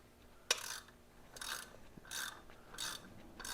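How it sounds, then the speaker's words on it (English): A hand ratchet clicks in four short bursts while valve spring retainers come off a GM LT4 V8 engine, each quick run of pawl clicks close and clear in a quiet shop, with a small metallic tap at the start. "Use just a regular ratchet."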